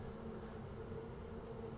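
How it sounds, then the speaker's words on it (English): A handful of honeybees scooped from a backyard hive in December give off a faint, steady buzzing hum that holds evenly without a break. "So here's a handful of bees for you."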